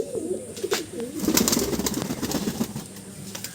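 Pigeons coo in a loft, a cluster of low warbling calls up close, joined by scattered rustling and a brief flutter, continuing steadily at moderate volume.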